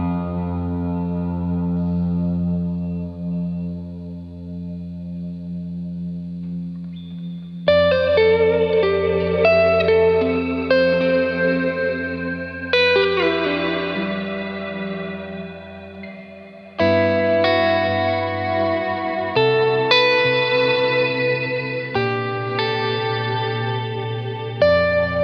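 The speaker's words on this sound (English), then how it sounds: "the dynamics could be far from subtle and create these extremely gated and swell-like effects" An electric guitar runs through gated, swelling chorus and reverb effects, giving sustained chords that surge in and fade in waves, with distorted, string-like layers and sudden loud swells.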